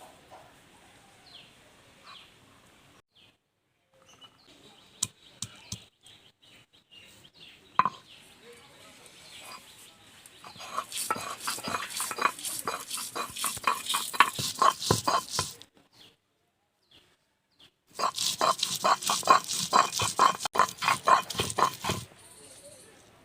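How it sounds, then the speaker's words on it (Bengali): Ginger and garlic are ground together on a grinding stone: a few scattered knocks at first, then two long bursts of rapid, rhythmic scraping strokes, close and fairly loud, separated by a short pause. "এবার আমি আদা আর রসুনটা একসাথে বেটে নেব"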